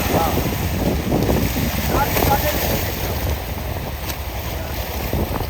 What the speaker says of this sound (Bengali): দেখেন কিভাবে চলতেছে নৌকাটা